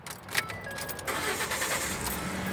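A 2012 Ford F150 pickup engine cranking and catching after a blown fuse is replaced, a brief starter whir giving way to a steady running engine close by.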